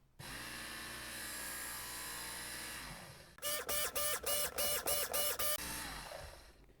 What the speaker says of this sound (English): I'll go a couple more passes on each side, and then we'll switch to the 220-degree belt.